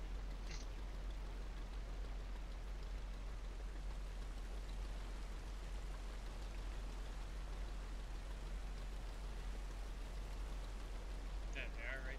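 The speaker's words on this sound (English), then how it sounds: "Fishing in a rainstorm." Heavy rain pours down during a rainstorm at sea while a boat is out fishing. A constant, dense hiss of rainfall fills the whole stretch evenly, with a low rumble underneath and no break.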